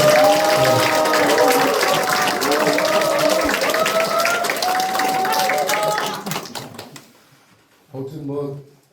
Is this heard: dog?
no